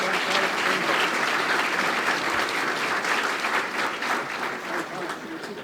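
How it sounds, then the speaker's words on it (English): An audience at a banquet claps in sustained, fairly close applause that fills the room evenly and fades slightly at the end. "So please give them all a round of applause."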